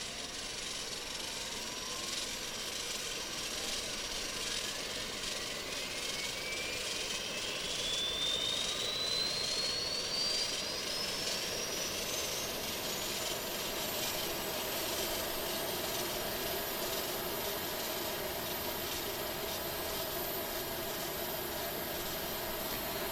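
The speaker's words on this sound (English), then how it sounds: "in the background you can hear the engines windmilling in the wind" A steady, airy jet engine roar from an Aerosoft A330 in a flight simulator, engines windmilling in the wind, with a slowly rising whine drifting upward throughout, continuous and unbroken, no voices.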